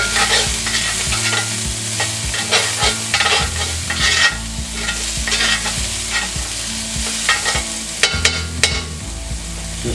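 Half an onion and mushrooms fry in a pan for Salisbury steak, a loud, close sizzle under repeated scraping and stirring strokes that keep a busy, uneven rhythm throughout.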